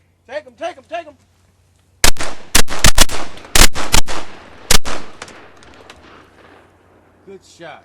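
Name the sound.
shotgun shots while hunting birds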